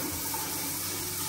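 Water runs steadily from a household tap, a close, even rushing hiss that stays constant throughout the brief moment with no talk over it.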